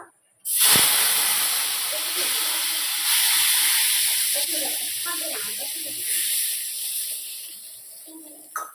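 Water poured into hot oil with mustard seeds for a raw-mango sweet preserve sets off a sudden loud, steady hiss and sizzle that carries on for several seconds, slowly easing off near the end.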